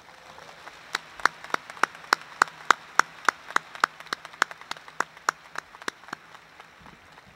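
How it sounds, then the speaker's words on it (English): Slow, evenly spaced claps from a small number of hands at a high school graduation ceremony, for the school staff, about twenty distinct claps heard at a distance and fading slightly toward the end. "Let's give our staff a round of applause."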